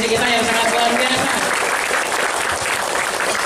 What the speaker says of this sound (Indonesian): tepuk tangan dulu dong untuk MC kita yang sangat luar biasa.